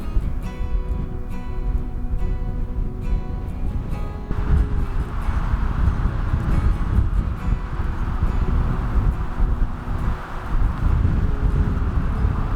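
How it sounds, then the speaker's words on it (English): Wind rushes through trees surrounding old ruins along an outback track, a steady broad roar close to the microphone with gusts swelling and buffeting throughout. "The sound of the wind going through these trees surrounding the ruins really did give it such an eerie feeling."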